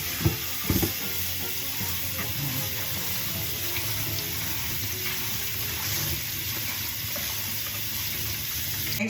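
Garlic and onion sautéing in a pan as the base for cabbage, a steady close sizzle that runs evenly throughout with a couple of brief clicks near the start.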